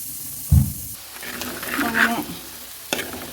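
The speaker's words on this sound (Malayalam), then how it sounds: "മസാല ഫ്രൈ കേട്ടോ, ഡ്രൈ ഫ്രൈ ഇവിടെ ഉണ്ടാക്കി" A potato masala dry fry crackles and sizzles in a pan, with a sharp scraping stir at the start and more stirring strokes over the steady hiss.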